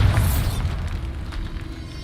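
A Bombarda spell blast in Hogwarts Legacy erupts as a deep, loud boom with a crumbling burst at the start, then a rumbling decay fading over two seconds.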